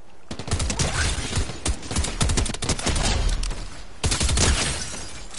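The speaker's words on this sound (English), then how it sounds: "Someone else is shooting at him." Gunfire in the video game Fortnite: rapid bursts of automatic shots crackling loudly in dense volleys, with short pauses between strings of fire and a final burst near the end.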